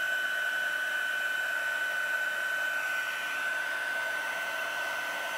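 An embossing heat tool blows hot air steadily, a close, constant whooshing hiss with a high whine that holds evenly throughout, no voices.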